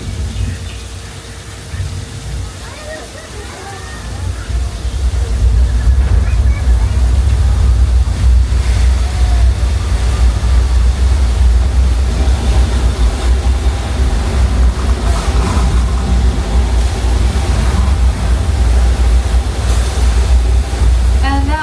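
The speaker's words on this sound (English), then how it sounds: "Our flash flood demonstration." Staged flash flood effect on the Universal Studios Hollywood backlot tour, a loud steady roar of rushing water that swells after a few seconds and stays broad and dense, with faint voices underneath.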